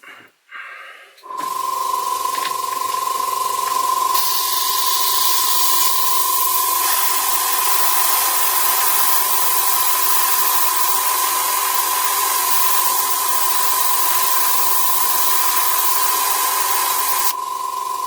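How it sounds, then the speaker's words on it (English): An airbrush sprays diluted model paint onto a WWII German jerry can model: a steady, close hiss with a faint whistling tone that starts after a short pause and runs continuously before stopping abruptly. "otherwise it won't go through the airbrush. So let's get that fired up."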